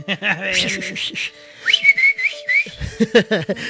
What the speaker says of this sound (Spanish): Échate el chiflidito, ño.